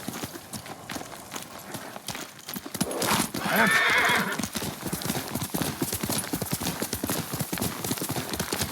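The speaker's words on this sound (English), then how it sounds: "Yuriko's horse." A horse in the samurai video game Ghost of Tsushima clip-clops steadily through the scene, a sharp whinny rising midway over the rhythmic hoofbeats amid game ambience.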